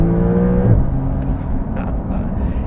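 A 2022 Porsche 911 Carrera S accelerates hard, its engine note rising and holding as a steady, loud rasp for a couple of seconds with no talking over it.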